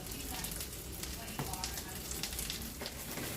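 Constant sizzling and crackling of fish frying in a hot pan for fish stew, close and steady, with a few sharper pops and spatters.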